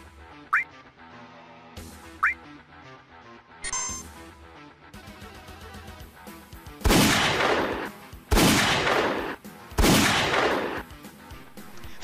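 Gunfire from a gun in an advertisement comes as three long, loud bursts of rapid shots, preceded by scattered cartoonish effects and short blips.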